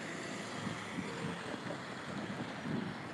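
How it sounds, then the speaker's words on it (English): Steady low rumble of trucks passing on a noisy road, a continuous distant wash of traffic with no distinct individual vehicles standing out. "Nice to see the trucks."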